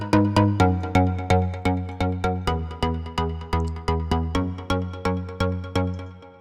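Spire software synth plays rhythmic pulsing chords from the Function Loops Laser Pop preset pack, a steady train of bright plucked stabs that decay quickly, loud and upfront with no talk.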